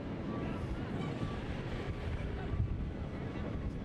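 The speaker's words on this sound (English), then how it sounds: "it's windy enough that I think our big screen is going to come down" Gusty wind buffets the microphone at an outdoor collegiate criterium road race in Albuquerque, a low, rumbling rush with irregular swells, under crowd and course ambience.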